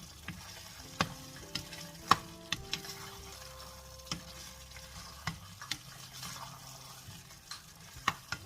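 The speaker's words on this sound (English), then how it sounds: "So the next thing I'm going to be adding now is my red plantain." Red plantain and gizzard cook in a pot, with a soft continuous sizzle under sharp spoon taps and stirring clicks scattered throughout, close and fairly quiet, with no talking.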